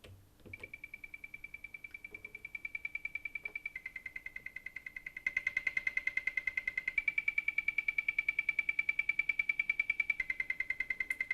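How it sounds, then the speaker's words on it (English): Analog synth sequence patch built on Toxic Bass 1 for a cover: a rapid, evenly pulsing repeated note pattern, quiet and steady, that steps up in loudness partway through and keeps its mechanical rhythm to the end. "And finally, we've got the analog sequence sound,"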